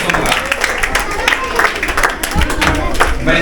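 An audience at a school prize distribution and annual sports event claps loudly and continuously, dense applause mixed with crowd noise and some talking.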